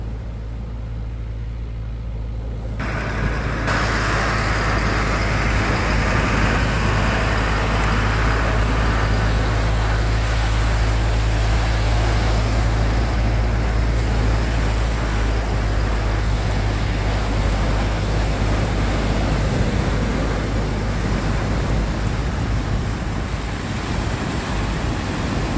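Boats with outboard motors trimmed high coming up a channel, a loud continuous engine drone and rushing water wash that swells in after a quieter opening and holds steady throughout.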